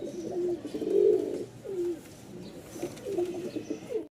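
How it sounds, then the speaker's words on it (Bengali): Giribaz and hand-flying pigeons, two pairs kept for sale in Mirpur, Dhaka, cooing in low, repeated throaty phrases, a loud swelling coo near the start and more softer coos following, close by with no talk. "এই যে দেখেন হাতবাজির কবুতর এক জোড়া, প্লাস হচ্ছে এই এক জোড়া, মোট 2 জোড়া কবুতর আছে"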